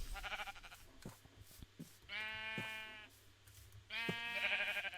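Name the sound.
sheep bleating in a video game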